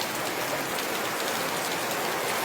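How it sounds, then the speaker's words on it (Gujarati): Steady rain pours down continuously on a farm field, a dense even hiss of drops hitting the ground nearby with no pauses. "જુઓ હારા મારો વરસાદ આવી ગયો"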